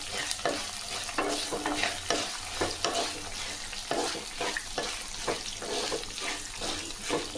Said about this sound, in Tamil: நல்லா எண்ணெயில் இது போல் வதக்கி எடுத்துங்க.